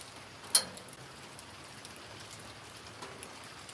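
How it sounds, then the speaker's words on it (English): Very light, splashy rain falls outdoors, coating surfaces with a faint, steady patter and an occasional louder drip or tap close by. "this is a coverage rain. It's splashy, splotchy. Very light though."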